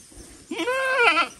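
A goat in a village goat shed gives one loud, close, wavering bleat lasting most of a second, after a quieter bleat at the start; no speech.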